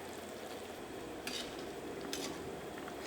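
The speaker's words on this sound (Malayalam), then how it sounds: "ഇപ്പോൾ കറി നന്നായിട്ട് തിളച്ചിട്ടുണ്ട്" A pot of prawn and raw mango curry, finished with milk, bubbles at a low simmer. The bubbling is faint and steady, broken by two brief clinks of a utensil against the pot.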